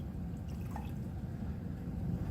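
Barium chloride solution, about 5%, pours from a graduated cylinder into a laboratory beaker, a soft trickling liquid sound, faint and close, running steadily with no talk.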